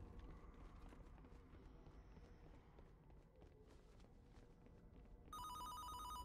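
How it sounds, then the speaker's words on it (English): An in-game telephone rings in Fortnite's Haunted Escape mode, its bright repeated ring bursting in near the end over a dense, steady bed of game noise and movement. "Answer the phone, Russ."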